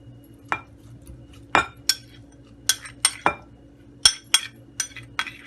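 Metal utensil clinks against a dish as potatoes are tossed with olive oil for garlic baked potatoes, about a dozen sharp, close taps and scrapes spaced irregularly over a quiet background with no talking.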